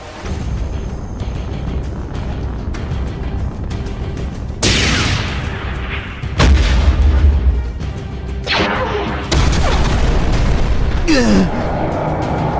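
Heavy booming cannon blasts and explosion bursts in a stop-motion Transformers battle, several loud impacts over a dense, rumbling sci-fi score with whooshing effects.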